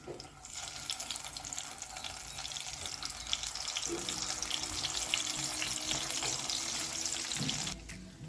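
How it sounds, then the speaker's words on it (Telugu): Stuffed eggplants hitting hot oil for guthi vankaya fry set off a steady, moderately loud sizzle and hiss that swells after the first seconds and carries on evenly to the end. "ఆయిల్ వేడెక్కింది. ఇప్పుడు దీంట్లో వంకాయలు వేసేసుకోవాలి."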